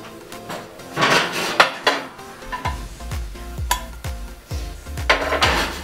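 A sandwich set into a 12.5-inch non-stick skillet with a green base, stainless steel ringed bottom and plastic handle: close metallic clanks and scrapes of pan handling, with several sharp knocks in a loose, irregular rhythm.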